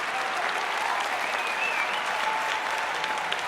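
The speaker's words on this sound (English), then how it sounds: "give a round of applause for my brother Jaylen Brown" Audience applause, dense and steady clapping from a large crowd, loud and continuous throughout with no break.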